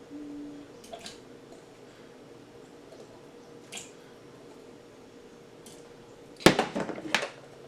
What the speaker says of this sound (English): slowly add your potatoes, otherwise you'll have the big splashes